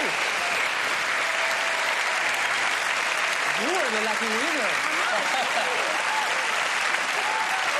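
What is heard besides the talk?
applause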